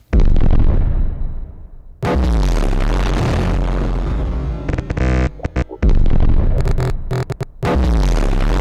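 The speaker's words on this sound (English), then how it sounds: "These are just stretched out kicks, panned left and right." Heavily boosted kick drums, stretched out into long booming hits and panned hard left and right, strike loudly in bursts with brief gaps between them.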